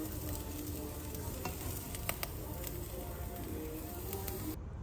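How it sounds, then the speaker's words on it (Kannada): Vegetables fry in a pan for white pasta, a steady broadband sizzle running throughout with a few sharp stirring clicks near the middle, close and moderately loud, no talk. "ಇವಾಗೆಲ್ಲ ವೆಜಿಟೇಬಲ್ಸ್ ನೋಡಿ ಫ್ರೈ ಆಗಿದೆ"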